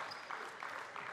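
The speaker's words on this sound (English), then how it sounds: "Big round of applause coming for Hiram Harris." Distant, faint applause from a crowd at a national championship boys' match between Fraser and Rotorua, a brief steady patter of clapping heard from far off.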